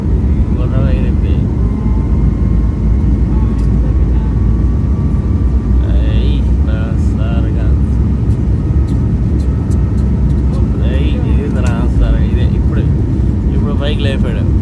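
An airplane takes off from the Dallas airport with a loud, constant engine roar and low rumble that holds steady throughout, with faint voices talking in the background.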